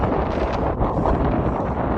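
Strong wind blasts across a high mountain trail, roaring and buffeting the microphone loudly and continuously without a pause.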